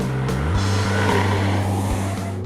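Ford Mustang GT V8 accelerating hard, a loud, close engine roar climbing in pitch and swelling into a sustained, rough growl.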